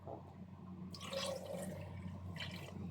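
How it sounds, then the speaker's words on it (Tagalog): Half a cup of water poured into a blended avocado and blueberry mix, a soft liquid splash over a steady low hum, rising in the middle of the clip, then a second brief burst near the end. "Lagyan ko po siya ng tubig ng half cup."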